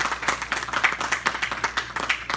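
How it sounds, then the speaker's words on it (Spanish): A church congregation claps together in a steady, brisk rhythm, many hands beating in near-unison for a couple of seconds at moderate distance. "Dale un fuerte aplauso al Rey."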